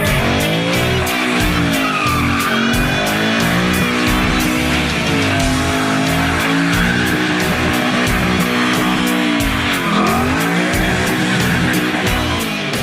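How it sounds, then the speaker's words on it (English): A Ford Mustang's tires squeal loudly during a burnout over a roaring engine, with wavering pitch sweeps and continuous skidding noise throughout. "squealing its tires on a burnout"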